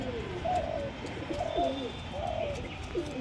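Pigeons kept as a hobby flock at a home in Nabadwip coo in a repeating series of soft, throaty calls, several close rounds over steady background noise.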